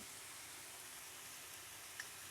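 Polao rice frying in a pan on a medium-low flame with salt, nut paste, garlic paste and ginger paste, giving a soft, steady, even sizzle throughout.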